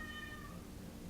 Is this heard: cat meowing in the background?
yes